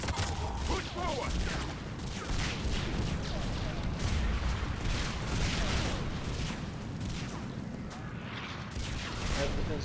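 A loud battle in the game Mass Effect Legendary Edition: explosions and gunfire rage without pause, dense booms and cracks layered over a steady rumbling roar for the whole stretch.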